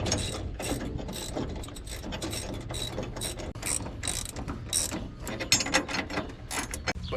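A ratchet works bolts loose on a classic Chevy truck under restoration, making rapid, continuous pawl clicking up close with uneven bursts and a few sharper knocks.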